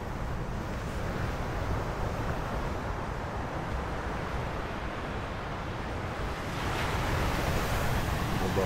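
Sea waves on the Baler beachfront in Aurora, a continuous broad wash of surf roaring steadily with wind buffeting the microphone, swelling slightly louder near the end, with no talk.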